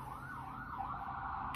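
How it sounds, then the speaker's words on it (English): An ambulance siren wails steadily with a rising and falling tone, loud and close, over low road rumble with no talking. "That's obviously a fucking ambulance, though, right? That's not the cops."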